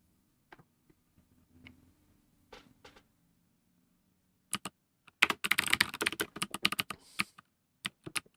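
Clacky typing on an old DOS computer keyboard: a few scattered, hesitant key taps, then a dense burst of rapid keystrokes, and a couple of final isolated clicks, close and crisp in a quiet room.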